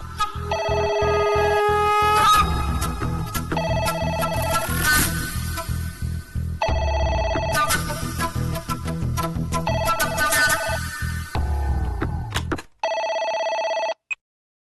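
Telephone ringback on an outgoing call in a Tamil TV serial, loud electronic rings in repeated bursts of rapid trills separated by short gaps, ending with a different steady tone before cutting off; no voices.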